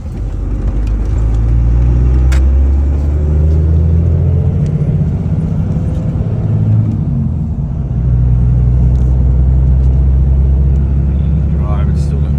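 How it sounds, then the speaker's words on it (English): Cabin of a 2001 second-generation Cummins diesel Ram truck with a 5-speed, driving with bearing noise: steady loud low rumble and drone throughout, with a person talking over it. "It's just that bearing noise."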